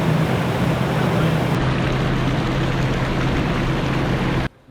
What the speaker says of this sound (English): I'm actually hearing the water off the back of the boat almost more than anything right now